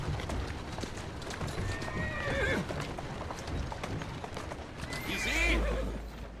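A horse in Assassin's Creed Syndicate clip-clops along with steady hoofbeats and lets out two whinnies, one early and one near the end, over a low game-world rumble.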